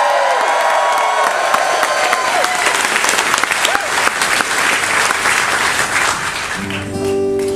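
Audience applause with cheering and whoops fills the room as a cruise show's team leader, a musician, is welcomed on stage; steady, loud clapping throughout, settling near the end.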